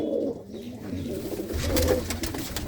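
Pigeons cooing close by, a few soft low throaty calls in a short burst with faint rustling and no talk.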